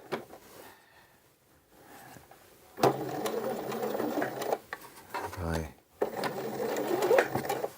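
A sewing machine stitches a dart in an A-line skirt in short bursts, with a back stitch and brief pauses between runs, loud and close while a voice talks over parts of it.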